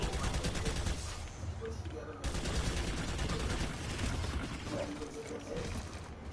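Rapid bursts of Pulsar C rifle fire from Planetside 2, fired from the hip in close quarters, run as a dense continuous rattle through the whole stretch. There is a brief gap near the two-second mark, and other battle noise sits underneath.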